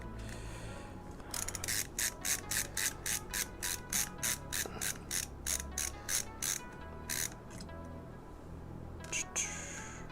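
Screws being removed from a PC CPU cooler bracket, probably with a ratcheting screwdriver: a close, rhythmic series of about twenty sharp clicking bursts, with a short pause partway, then a few final clicks.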